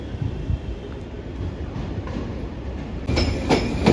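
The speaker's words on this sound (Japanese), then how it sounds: "岡山駅8時42分回送列車となり車両基地に戻ります。 115系近郊型電車です。" A JR West 115 series suburban electric train runs out of Okayama Station as a deadhead service back to the depot, its rumble and wheel noise steady at moderate distance, swelling louder toward the end.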